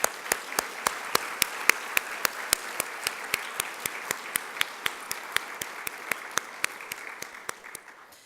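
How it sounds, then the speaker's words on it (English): Applause at a bioscience education center dedication ceremony: a steady sustained round of clapping from the audience, with sharper individual claps standing out, fading out toward the end. "Give them a round of applause."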